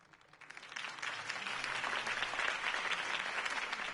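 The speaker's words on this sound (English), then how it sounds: "could have heard that applause" Applause from a crowd in a video game swells up and holds steady, a dense wash of clapping that grows louder after the first second.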